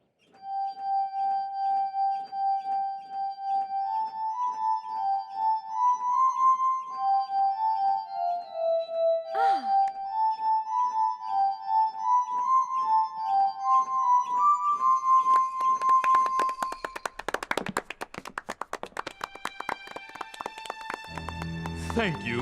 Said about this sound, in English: This is an invention of Dr. Franklin's called the glass harmonica.